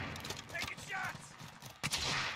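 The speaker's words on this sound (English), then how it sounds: "Mid caliber. Taking shots." Distant, muffled gunfire crackles in a video game battle, bursts of mid-caliber shots layered under game chatter and background noise, with a sharper, louder burst near the end.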